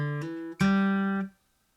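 Fingerstyle acoustic guitar plays the closing bar of the C section of a song: two soft plucked notes, then a louder struck chord that rings and slides before stopping, close and alone.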